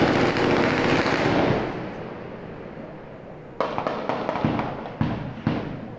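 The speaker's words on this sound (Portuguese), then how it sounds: "São rajadas de metralhadoras e tiros de pistola." Gunfire in city neighbourhoods of Vitória, with machine gun bursts and pistol shots: a loud sustained crackle of rapid shots fading out, then several sharp separate bangs at irregular intervals, heard at some distance outdoors.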